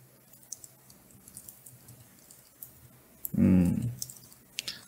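Typing on a Chromebook keyboard: a few faint, scattered key clicks, close and quiet, with one louder thump near the end.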